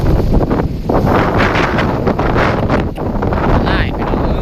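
Strong gusting wind roars through a dry forest, buffeting the microphone in loud, uneven rushes with rustling foliage mixed in.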